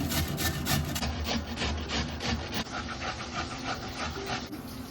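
Onions, tomatoes and chilies are grated by hand: a close, steady rasping scrape repeats in quick strokes, with no talking.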